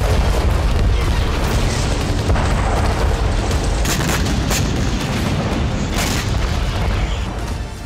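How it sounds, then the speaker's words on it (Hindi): Bombing explosions in Gaza, a dense, continuous roar of deep booms and rumbling blasts, loud and sustained without pause. "आठ अक्टूबर से इजरायल ने गाजा पर बमबारी शुरू की"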